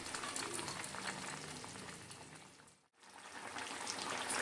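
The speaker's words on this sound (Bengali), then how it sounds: "আরও 2 থেকে 3 মিনিট আমি খুব ভালো করে ফুটিয়ে নেব।" A pot of shol fish sour curry with amra bubbles and simmers steadily at a soft, low level, with a brief pause midway before the boiling returns.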